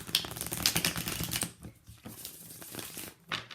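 Tarot cards being shuffled by hand up close, a quick run of papery riffling and crackling bursts that thin out into a few softer, scattered shuffles, with no talking.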